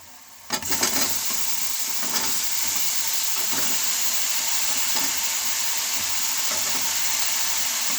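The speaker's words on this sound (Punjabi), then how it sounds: "ਆ ਦੇਖੋ ਗੰਡੇ ਭੁੱਜ ਗਏ ਨੇ ਲਾਲ ਹੋ ਚੁੱਕੇ ਨੇ ਬਿਲਕੁਲ" Onions frying in a pan for a potato, carrot and pea curry, a steady close sizzle and hiss that bursts in suddenly and then holds constant, with faint stirring scrapes underneath.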